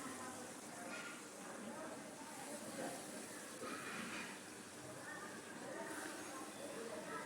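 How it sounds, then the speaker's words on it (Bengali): Hilsa fish pieces fry in hot mustard oil in a pan, giving a steady, soft sizzling hiss that holds even throughout, fairly faint and uninterrupted. "সবগুলো মাছ এখানে দিয়ে দিয়েছি। এখন আমি সময় নিয়ে একটা পাশ ভাজতে থাকবো"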